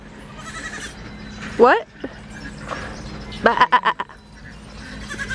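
Baby goats bleating on a farm: one wavering cry, then a quick burst of several short bleats a couple of seconds later, fairly close over a low background hum, with a brief spoken word.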